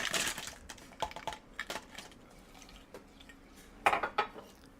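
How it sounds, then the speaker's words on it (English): A few clinking, rattling drops of ice cubes into a cup for milk tea, in short bursts with quiet pauses between, close by. "And we're going to add some fresh ice."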